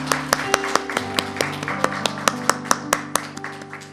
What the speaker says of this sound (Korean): 다시 한번 박수로 우리 축하하겠습니다